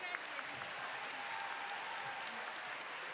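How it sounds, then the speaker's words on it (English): Sustained applause from an audience at a school recognition ceremony, a dense steady patter of many hands clapping, moderately distant. "Let's give our automotive technology students another round of applause."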